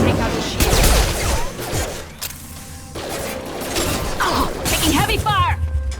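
Heavy gunfire in Mass Effect 2 during a fight against a security system, with dense overlapping shots, mechanical clanks and whooshes, loud and close, mixed with game voices and effects.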